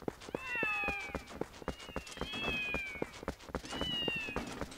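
Several cats meowing in the Zelda Twilight Princess HD video game, repeated rising and falling meows in three bursts, fairly close and clear over a busy game background.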